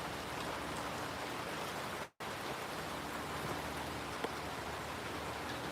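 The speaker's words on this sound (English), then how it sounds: "It's raining, man." Light rain drizzles outside as a steady, even patter of drops, with a brief cut to silence partway through.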